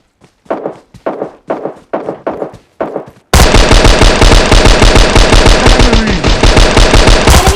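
Gunfire in the mobile battle-royale game PUBG Mobile Lite, loud and close: six spaced single shots, then a sustained rapid automatic burst for several seconds.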